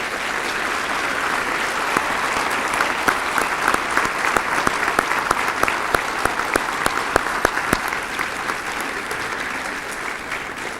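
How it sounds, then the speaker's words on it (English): Audience at a high school senior academic recognition ceremony applauds the graduating class of 2008, a sustained, even round of clapping with a few sharper individual claps standing out, lasting about eleven seconds. "let's have one more round of applause for the class of 2008"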